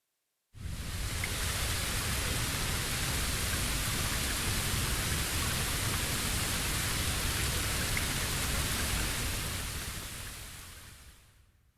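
Steady rain in the video game Bleach Rebirth of Souls, a dense continuous hiss that holds even for about eleven seconds before fading out, with no voices.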